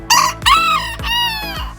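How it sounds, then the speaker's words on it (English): Small fully grown backyard rooster crowing several times in close succession, loud and near, with strained harmonic calls and brief clucking breaks between them, no talk. "This guy is our little rooster."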